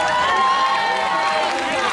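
Crowd cheering and shouting at an olympiad opening festival, a dense, loud continuous roar of many voices with scattered clapping underneath.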